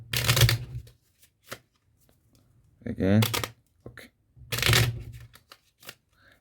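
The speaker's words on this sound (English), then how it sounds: "Even we can shuffle the cards." Playing cards are shuffled in a few quick riffling bursts, close and crisp, with a person speaking briefly between them.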